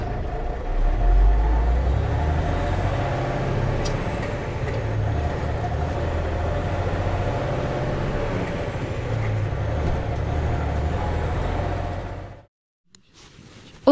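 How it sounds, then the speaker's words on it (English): A garbage truck's engine rumbles continuously at close range, a low, uneven droning that rises and falls slightly before cutting out near the end. "Garbage truck."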